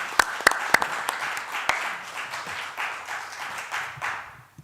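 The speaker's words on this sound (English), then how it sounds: "Yeah, round of applause, yeah." A short burst of applause at a council committee meeting, with a few sharp claps at the start, settling into light, scattered clapping from a small group indoors.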